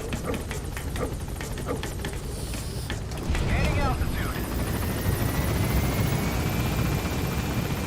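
A military helicopter climbs away from a landing zone in a Metal Gear Solid V game scene, its rotor chop and engine whine steady and loud, swelling partway through, with a brief radio voice and rising electronic tones.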